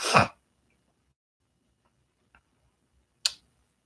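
A short, breathy burst opens, followed by quiet, then a sharp, brief snap-like burst near the end, resembling a sneeze.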